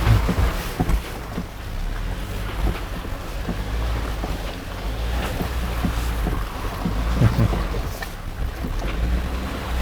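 A Jeep Wrangler JL on an off-road test drive pushes through a deep stretch of water, with a steady rushing, sloshing wash and wind buffeting the microphone throughout and no talking.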